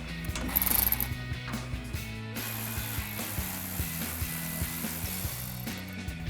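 A ratchet with an extension and a 12mm socket clicks rapidly and steadily as it removes a bolt behind the cooler on a 2016-2023 Toyota Tacoma, with close, repeated pawl ticks in uneven strokes and brief pauses between them.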